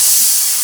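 Pressure cooker spitting steam, a loud, steady, close hiss that fills the short moment without a break.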